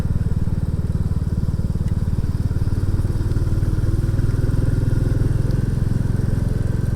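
A Royal Enfield Classic 350 cruising along a country road, its single-cylinder engine giving a steady, deep thumping drone with rumbling wind buffeting, loud and close throughout with no talk.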